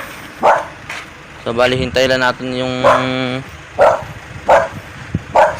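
Dogs bark in a rural field, a few sharp, fairly close barks spaced out over several seconds, while someone talks between and over them.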